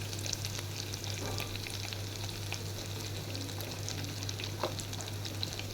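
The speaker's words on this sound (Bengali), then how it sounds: "টমেটো পেস্টটাকে সুন্দরভাবে ভেজে নিতে হবে" Spices and tomato paste fry in a pan for a pabda fish curry, giving a steady, dense sizzle across the whole stretch with a few faint stirring scrapes and a constant low hum underneath.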